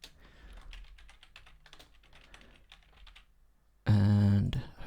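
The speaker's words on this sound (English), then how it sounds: "Type in my name here." Soft, quick keystrokes on a computer keyboard entering a name for a One Piece Online 2 game, a light irregular patter for several seconds before a sudden loud in-game tone cuts in.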